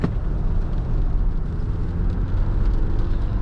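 A 2024 Alfa Romeo Tonale Veloce in dynamic mode pulling in third gear on a slippery road, its steady engine and road roar filling the cabin loudly and continuously throughout.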